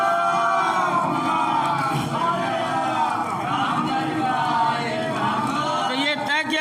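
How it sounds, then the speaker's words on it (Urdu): An audience at a Muharram majlis recites salawat together, many voices blending into a loud, continuous, droning group chant that rises and falls without a break. "صلوات پڑھ دیں محمد و آل محمد پر"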